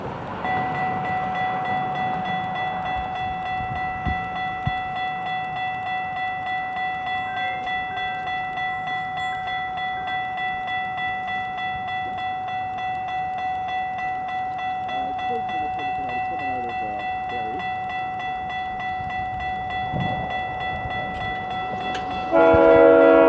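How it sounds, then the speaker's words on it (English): A GO Transit train from Barrie passes a station at King City, its horn holding a steady multi-tone chord for most of the stretch, with a rumbling rail bed beneath and the horn swelling louder near the end. "Okay, now here's the next train. This is GO 6916. It's coming all the way from Barrie."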